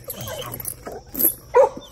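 A pit bull gives a few short barks and yips close by, with soft whimpering noises in between and a low rumble underneath.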